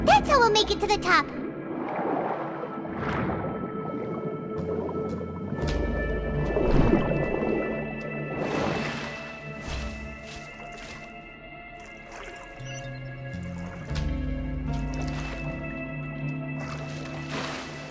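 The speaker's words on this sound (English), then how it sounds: "The water level's gone way up!" Water level rising in Genshin Impact, gurgling, sloshing swells and drips with low rushing surges across the scene, while a person talks over them.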